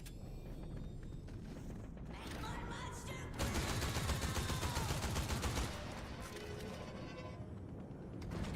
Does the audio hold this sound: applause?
no